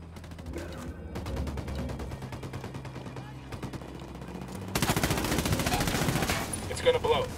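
Sustained rapid gunfire in Ghost Recon Wildlands, steady repeated shots building into a louder dense burst of firing near the end, with voices talking beneath.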